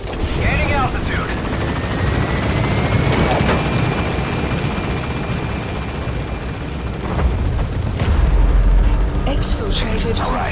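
A helicopter lifts off from a landing zone in Metal Gear Solid 5, its rotor and turbine roaring loud and continuous throughout, with a radio voice talking over the noise and a deep rumbling swell near the end.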